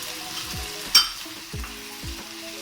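Egg roll filling fries with a spoonful of turmeric and is stirred to mix it in. A soft sizzle sits under a few dull scraping strokes and one sharp clink of a spoon against the pan.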